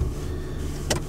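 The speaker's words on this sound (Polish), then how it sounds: "Ja odpalam silnik" A car engine turns over and settles into a low, steady idle heard from inside the vehicle, with a short sharp burst near the end.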